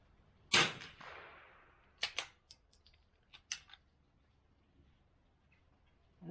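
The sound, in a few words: Anschutz 64MPR .22lr rifle shot with Lapua Center X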